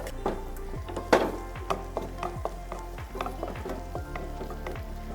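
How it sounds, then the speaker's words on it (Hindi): Chicken sizzling in Dalda cooking oil on low to medium heat, a steady crackling fry close by, broken by repeated scraping stirs and clinks of a spoon against the pan. "अब हम इसके अंदर चिकन को फ्राई करते हैं।"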